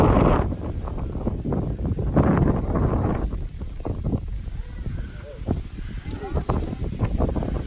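Strong storm wind in Spain buffets the microphone in rough, rumbling gusts, loud and low, with a voice faintly audible beneath the roar.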